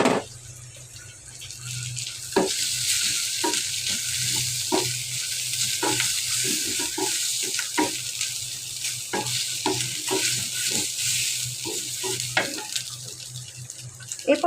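Boiled, deboned hilsa fish frying in a pan with a steady sizzle, broken by repeated sharp scrapes and taps of a spatula as it is stirred.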